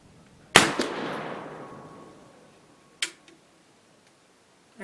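A single sharp report from a Pedersoli 1861 Springfield rifled musket at a 50-yard range, with a long decaying echo. A quieter click and a few faint ticks follow.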